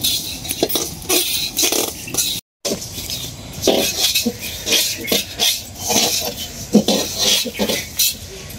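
Flattened rice (chira) being fried and stirred in a pan, with a busy run of scraping, rattling clinks against metal, loud and close, with faint voices in the background.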